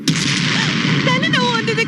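A bomb goes off in a film scene with a loud, sharp blast, followed by a dense roar of debris and rumble that carries on to the end. A short tonal whine rises over the noise near the close.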